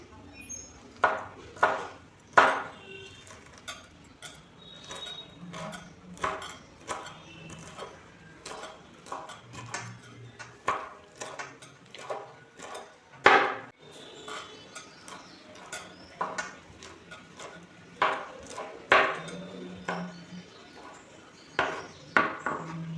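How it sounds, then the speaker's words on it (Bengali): A knife chops pieces of banana flower on a cutting board in a steady run of sharp, close taps, sometimes quick and clustered, with brief pauses and faint clinks in between. "এখন এগুলোকে একদম ছোট ছোট করে কেটে নেব"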